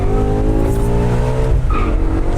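An Audi RS6 tuned to 720 hp is driven at high speed, its engine droning loud and steady inside the cabin with road and wind noise, and no one speaking.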